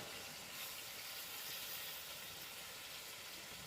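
Tomatoes and curry leaves frying in a pan, a steady, faint, even sizzle and hiss with no break and no voices.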